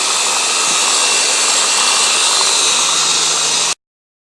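A belt grinder fitted with a 120 grit belt runs at full speed, a loud, steady high-pitched whir with a bright hiss that holds evenly and then cuts off abruptly.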